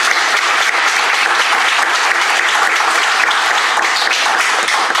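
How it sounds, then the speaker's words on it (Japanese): A gathered audience gives loud, sustained applause to welcome a speaker to the front, with dense, steady clapping filling the full stretch without pause. "拍手でお迎えしましょう。"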